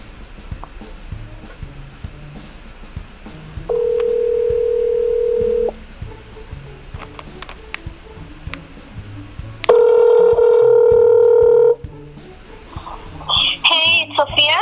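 A telephone call being placed to a cell phone: two long, steady, loud tones separated by a gap of quieter ticking and clicks, with faint chirping tones near the end.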